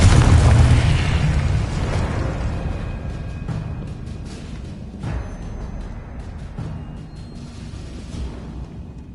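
A heavy spell explosion booms at the start during Hogwarts Legacy combat on PS5, then rumbles and fades, with a few smaller pops and crackles after it.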